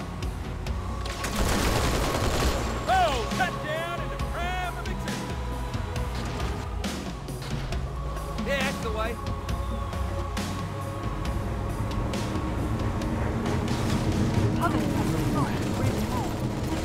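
A vehicle-mounted gun firing in Halo 2 while a Marine drives: sustained rapid fire under engine rumble and game sound effects, with talking over the top.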